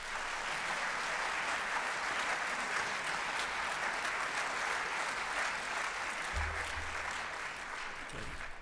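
An audience at a journalism talk applauds to welcome Jeff Greenfield, a dense, sustained clapping that fills the room at an even level before tapering slightly near the end.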